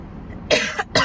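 A person coughs twice in quick succession, close and loud: a harsh burst followed by a shorter second cough after a brief gap, with no talking.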